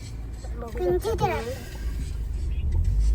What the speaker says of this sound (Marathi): लोणावल्या घाटामध्ये खूपच ट्रॅफिक झालेली आहे